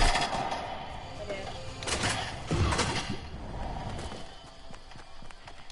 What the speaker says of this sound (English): Oh, there's gunshots on me?